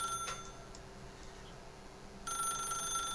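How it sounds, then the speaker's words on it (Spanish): A telephone rings in The Stanley Parable video game, starting as a steady, bright electronic ring partway through and continuing over a low, constant background hum. "Teléfono."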